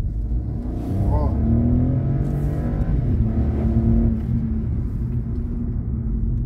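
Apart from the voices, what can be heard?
Hyundai HB20S car accelerating hard in a curve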